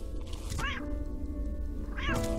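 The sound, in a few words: cat meowing in the video game Clocker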